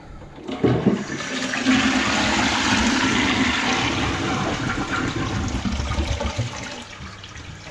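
A toilet flushes after a plumbing repair, with a loud, steady rush of water that begins abruptly and holds for several seconds before tapering slightly as the cistern refills.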